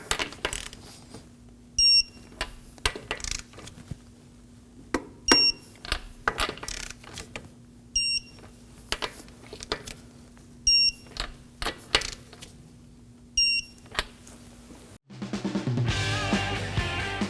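Torque wrench tightening wheel nuts on a Kia Sorento in a star pattern, a series of sharp metallic clicks in repeated short groups over a steady low hum, ending in a different louder sound.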